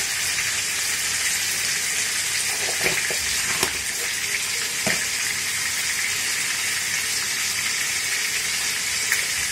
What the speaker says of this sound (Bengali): আর পটলগুলোকেও ভেজে নিচ্ছি